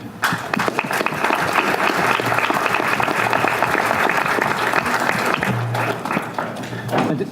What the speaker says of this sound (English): so if we can give them applause.